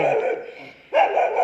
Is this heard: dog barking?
yes